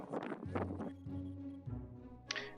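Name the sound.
wind on cliffs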